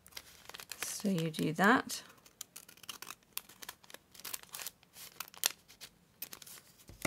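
Scissors snip and crinkle through a paper seed pack being trimmed for a junk journal, close and crisp in a short rustling burst, followed by quieter handling while someone talks.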